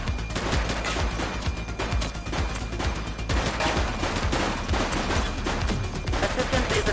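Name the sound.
gunfire in The Precinct video game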